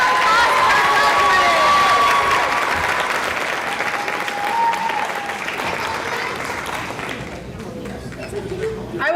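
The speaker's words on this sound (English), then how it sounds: "One more big round of applause for" A big round of applause for graduates at a nursing pinning ceremony fills the hall, with loud dense clapping and some crowd chatter that gradually thins and fades toward the end.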